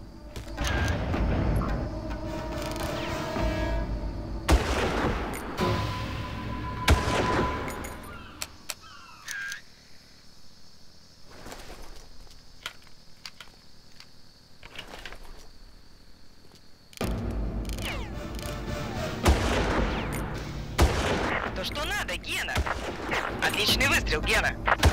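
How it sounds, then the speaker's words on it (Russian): Sniper gunfire in the Far Cry video game, a series of sharp loud shots and bursts with a quieter stretch in the middle, over game ambience and occasional clinks. "Точный выстрел, Гена."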